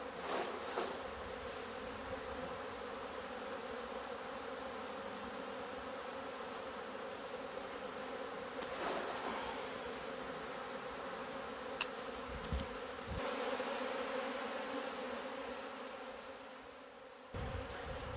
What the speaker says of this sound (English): Grip both ends of the frame quite firmly and shake the bees into the tub.